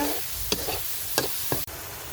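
Garlic paste fries in oil for biryani, giving a steady sizzle broken by a few clinks and scrapes of a stirring spoon, with no talking.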